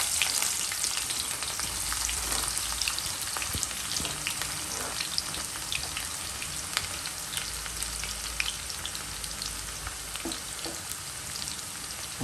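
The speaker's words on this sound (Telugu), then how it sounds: "ఆనియన్ ఎప్పుడు కూడా బ్రౌన్ కలర్ వచ్చేంత వరకు ఫ్రై చేసుకోవాలి గైస్" Onions frying until brown for chilli chicken crackle with a dense, continuous sizzle full of small pops, close and steady throughout with no one speaking.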